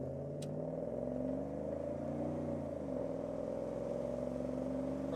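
A 1987 Pontiac Firebird GTA pulls through its gears on a road in Florida. The steady engine drone climbs, dips briefly at a shift, then rises again, heard from inside the car.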